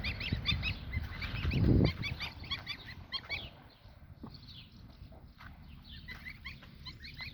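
Tiny goslings honk and cackle in a busy chorus of repeated calls, with a brief louder rumble near the start.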